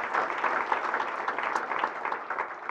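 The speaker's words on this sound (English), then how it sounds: "let's give our community applause for that" An audience applauds at a 2016 State of the Community address in Jacksonville, a moderately loud, even burst of clapping that holds steady for a few seconds.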